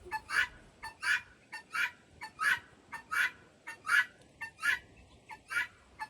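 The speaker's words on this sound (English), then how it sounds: "See the guineas, those guineas, they're gonna be causing a problem here." Guinea fowl give a run of harsh, rhythmic calls, about a dozen evenly spaced bursts at moderate distance, with no talking.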